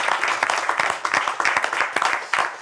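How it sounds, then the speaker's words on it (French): Audience applause at a French school spelling-competition grand final, a dense run of fairly even handclaps filling the short stretch with no voice over it. "Applaudir."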